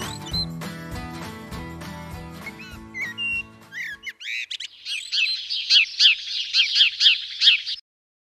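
A magpie calls in a garden, a run of harsh, repeated chattering bursts arriving loud and close after a few seconds of unrelated tonal sound, with no one talking.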